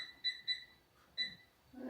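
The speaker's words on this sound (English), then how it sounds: "I'm going to set a timer." A kitchen timer being set while cooking a sour cream pork stroganoff: three short electronic beeps, two quick ones then a third after a pause, soft and close in a quiet kitchen.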